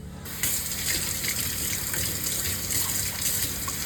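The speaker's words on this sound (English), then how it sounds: "I'll just wash my hands" Hands washed under a running kitchen tap, a steady rushing stream of water splashing into the sink with slight variations as the hands move, close and continuous after a brief quiet start.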